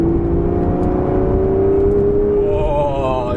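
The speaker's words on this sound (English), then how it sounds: "oh, you get the exhaust note, and this car comes to life" Aston Martin Vanquish engine accelerating, a loud, close exhaust note that climbs steadily in pitch as revs build, with a sharper rasp near the end, and no talking.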